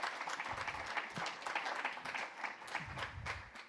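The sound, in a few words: audience applause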